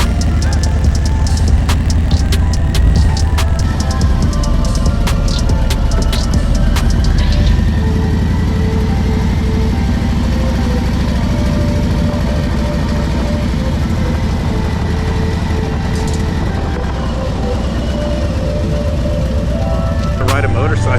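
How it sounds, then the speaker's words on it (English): A motorcycle rides along an ocean coast road, its engine droning steadily up close beneath wind buffeting, with a few sharp clicks and knocks early on and a rider talking over the noise. "Let's go for a motorcycle ride."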